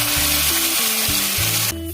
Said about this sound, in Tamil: மீதி இருக்கிற நெய்யிலேயே நம்ம வந்து வடிய வச்ச ஜவ்வரிசியை சேர்த்துருவோம்.